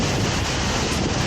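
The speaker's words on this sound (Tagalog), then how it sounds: "Ang lakas ng hangin." Strong wind gusts rush steadily across the microphone beside a river, making a loud, continuous broadband roar with no pauses or voices.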